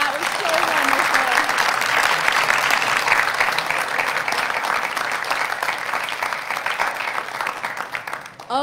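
A church Christmas program audience applauds the children performers, dense sustained clapping at close range that holds for several seconds before tapering off near the end.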